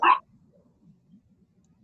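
A single short, loud dog bark at close range, followed by faint low rustling and near-silence.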